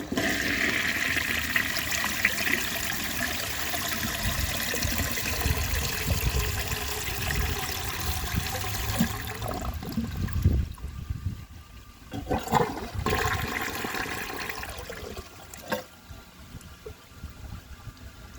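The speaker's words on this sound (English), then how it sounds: "Let's wait for the tank to refill, and I'm going to give that another flush." A 1948 Kohler Brooklands toilet flushes loudly nearby, a steady rush of water that fades after about ten seconds into quieter trickling and gurgles as the bowl drains and the tank refills.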